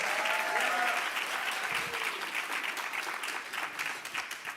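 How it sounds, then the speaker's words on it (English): An audience at a book talk gives steady, dense applause that fades slightly toward the end, with a few voices faintly audible underneath. "go ahead and give them a round of applause"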